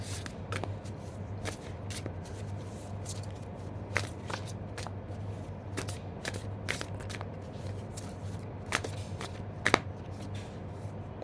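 An oracle card deck shuffled by hand for a tarot reading, giving repeated soft riffling and flicking bursts with sharp card snaps, close and steady, with no talking.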